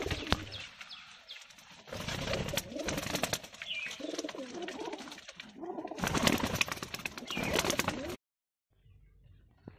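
Pigeons coo inside a loft in separate loud, close bursts with short quiet breaks between them, before ending in near silence.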